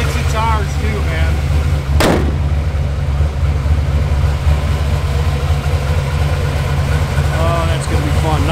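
A lifted 1967 Chevrolet K10 4x4 truck with a cammed V8 idles with a steady loping rumble, close and loud, with someone talking over it.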